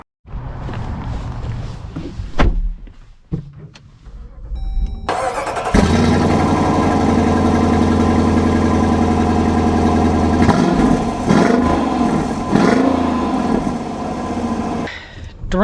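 A 2025 Dodge Durango R/T V8 cranks and fires up, settling into a loud, steady rumbling idle with a brief blip of revs near the end, heard close and alone.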